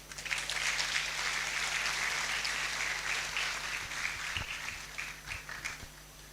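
Audience applause for a guest speaker at a university optometry white coat ceremony, steady dense clapping from a seated crowd, moderately distant, sustained throughout and thinning toward the end.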